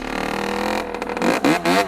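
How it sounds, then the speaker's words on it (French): Stock 50cc moped engine revved hard while the rider presses down on the front forks and lets off, close and loud, with rising and falling throttle bursts toward the end. "On prend la moto, on accélère sur la moto, et après on relâche."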